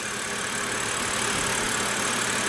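A 2006 BMW 325i with its 3-liter inline-six idles under an open hood, a steady, close, even engine drone with a faint mechanical ticking and no speech.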